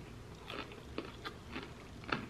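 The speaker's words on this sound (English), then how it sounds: "that's really good broccoli. That's borderline perfect. It's still got the crunch" Someone bites and chews crunchy, not overcooked broccoli cooked on a Blackstone griddle alongside steak and corn, with several distinct crunchy bites spaced evenly, close and moderately loud.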